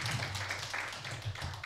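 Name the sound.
audience applause for a lecturer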